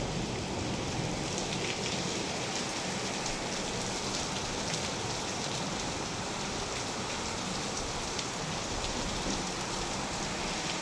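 Heavy rain pours steadily outside, a dense, continuous hiss of drops drumming on surfaces with no pauses and no voices.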